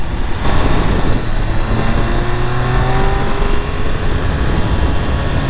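A 2022 Triumph Speed Triple 1200RR with its 1200cc triple engine is ridden hard, a loud sustained engine roar with rising and falling revs, heard close over wind noise.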